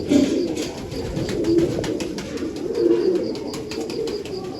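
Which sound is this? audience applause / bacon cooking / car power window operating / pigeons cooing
pigeons cooing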